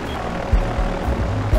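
Airplane in the mobile game Airport City, a steady propeller-like engine drone with low rumbling swells, loud and close.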